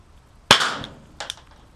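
A Makarov airsoft pistol fired in single action gives one sharp, loud close-range crack with a short decaying tail, followed by a fainter second snap.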